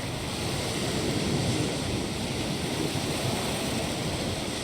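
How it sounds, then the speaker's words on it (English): A space capsule splashes down in the ocean in the Reentry space flight simulator game. A broad, steady rush of surf and wind-like noise fills the whole moment evenly. "And splash."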